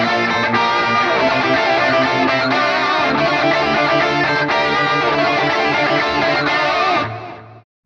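Harmonized electric guitars play a riff variation from a song, thick and steady with chugging rhythm under the twin melody lines, loud and continuous before cutting off at the end, without any talking.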